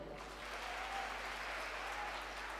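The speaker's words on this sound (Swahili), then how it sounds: "Makofi yake kwa wapi?" Applause from the audience at a worship gathering, a dense and steady wash of many hands clapping, heard from some distance and at an even level with a low hum underneath.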